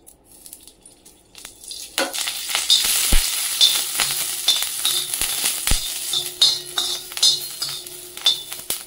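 Green chilli pieces frying in hot oil in a pan, a loud crackling sizzle with spattering pops and occasional stirring clinks of a utensil against the pan.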